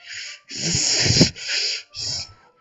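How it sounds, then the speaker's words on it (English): Sharp, hissing inhales sucked through teeth in the horror visual novel game Doki Doki Literature Club: several breathy bursts in a row, close and fairly loud, with no talking. "A sharp inhale, like someone sucking air through their teeth."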